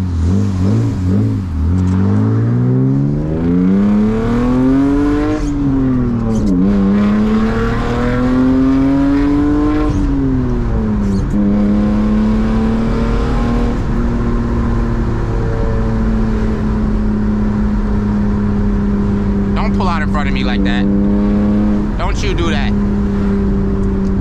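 A manual BMW E36 328i is driven on a rainy morning. Its engine is loud and close, revving up and falling back through gear changes, with sharp popping crackles bursting out near the end.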